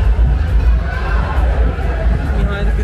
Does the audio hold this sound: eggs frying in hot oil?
no